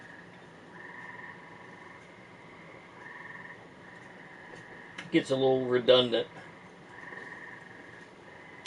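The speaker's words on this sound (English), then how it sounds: "Kind of like them frogs out there hollering" Frogs croak outside at a rural spot, a faint repeating chorus in the background with someone speaking briefly over it.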